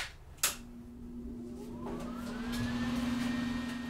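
A welding machine powers up after a sharp click, its hum rising into a steady whirring drone that holds close and even, with no talking.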